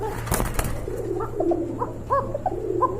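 A Basi Raj pigeon coos close by in a pigeon-selling collection, a series of soft repeated rolling calls over low background hum, with a brief knock early on.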